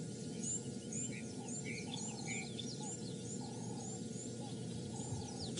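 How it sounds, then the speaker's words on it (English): Many small birds chirp and twitter at dawn in the African bush, overlapping calls against a steady low background hum, with no single bird standing out. "you can hear all the birds all starting to wake up now. All chirping, all waking up."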